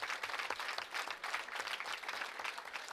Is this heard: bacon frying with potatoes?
no